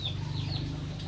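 Chickens in a small backyard let out a short, faint clucking call over steady background hum, with no one speaking.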